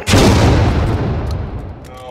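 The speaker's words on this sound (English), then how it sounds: "Is this a gas grenade? Concussion grenade." A concussion grenade detonating in the VR shooter Hot Dogs, Horseshoes & Hand Grenades, a single loud close boom with a decaying rumbling tail that fades over about two seconds.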